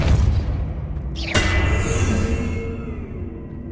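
A Depulso spell cast in Hogwarts Legacy bursts out as a loud whooshing boom over a steady rumbling game backdrop, then rings and fades away with a shimmering tail.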